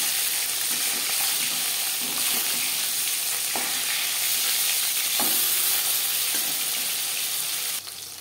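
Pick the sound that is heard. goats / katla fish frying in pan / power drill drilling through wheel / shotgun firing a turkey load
katla fish frying in pan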